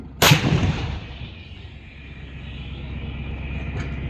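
An artillery gun fires at an army firepower demonstration in Devlali, Nashik, with one loud booming blast that rolls away into a long, fading rumble across the open range.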